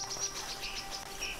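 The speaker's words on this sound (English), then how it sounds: "That is literally the weirdest bird badger call I've heard in my life." Odd, chirring bird call in woodland at Gettysburg, several rapid bursts repeating over a steady insect-like buzz, fairly close and without any talk.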